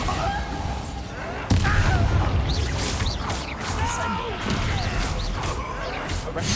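A Bombarda blasting spell in Hogwarts Legacy goes off with a sudden heavy boom, followed by rumbling crashes and scattered clatter, mixed with a voice talking.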